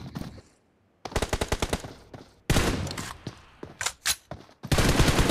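Rapid gunfire in the video game Free Fire, played in a tournament match: bursts of close, loud automatic shots in quick rhythmic strings, separated by brief pauses and single cracks.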